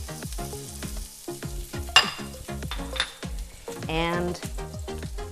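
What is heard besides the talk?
garlic frying in oil in a pan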